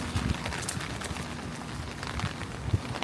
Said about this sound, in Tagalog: It's raining here in Manila